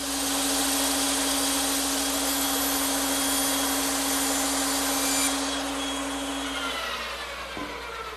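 A bandsaw makes straight cuts through wooden slats for an Adirondack chair in a workshop, with a steady, loud whine and hum that runs throughout and eases off near the end as the blade winds down.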